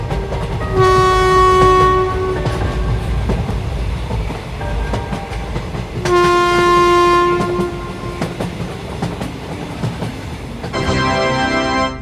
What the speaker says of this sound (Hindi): अच्छा हुआ ड्राइवर ने ट्रेन को स्टार्ट कर दिया